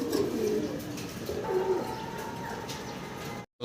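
Fancy pigeons coo close by in soft, low, throaty rolling calls, several overlapping phrases over a light background hum, ending with a brief cut to silence.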